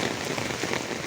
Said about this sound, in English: the kind of intensity of this rain just gets down, but it is even hardening